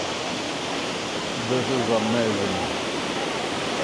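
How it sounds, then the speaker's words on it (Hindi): Kynrem Falls in Cherrapunji roars as a steady, broad rush of falling water that fills the whole clip, with a voice speaking briefly over it partway through. "आप मेरे पीछे ना झरने की आवाज़ सुन रहे हो, कितनी ज़ोर से आवाज़ आ रही है।"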